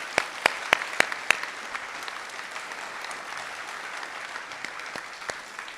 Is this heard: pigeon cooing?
no